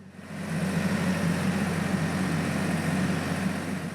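A diesel locomotive idles steadily on a main-line track with a deep, throbbing low rumble and constant vibration, fairly loud and close, with no voices.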